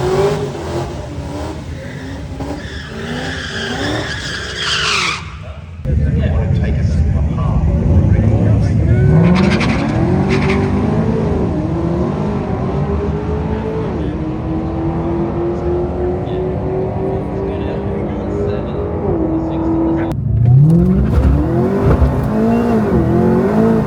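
A supercharged LSA V8 Holden VF makes a quarter-mile drag run, its engine loudly revving and climbing through gears with sharp shifts before backing off, the roar steady and close throughout.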